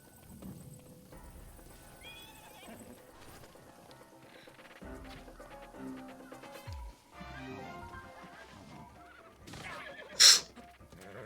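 A horse neighs in Breath of the Wild, a short sharp whinny near the end that rises loud over game music and ambient sound.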